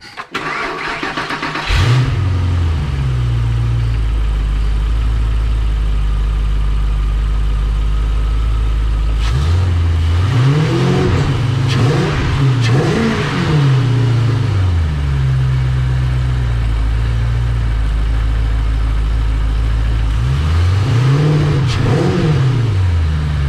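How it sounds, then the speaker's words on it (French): A Ford Mustang 4.6L V8 with an automatic gearbox cranks, catches and settles into a loud, deep idle, then blips the throttle in several sharp revving bursts before dropping back to idle. "on va faire un premier démarrage pour voir ce que ça donne"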